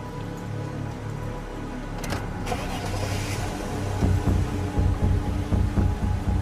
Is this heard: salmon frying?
no